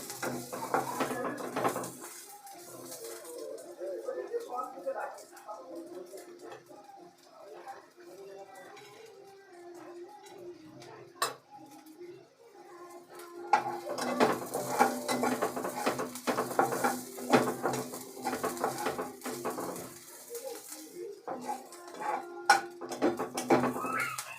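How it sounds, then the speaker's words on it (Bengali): Ginger, garlic and other ingredients are sautéed and stirred in a pan, with utensil scrapes and clinks over a steady background. The noise turns busier and louder in the second half. "দিয়ে সব কিছু একসাথে ভালো করে কষিয়ে নেব"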